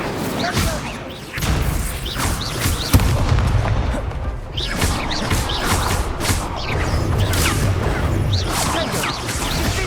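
Incendio fire spell cast in Hogwarts Legacy, a series of loud booming magical blasts with whooshes and crashing impacts, repeated throughout over a dense, noisy battle.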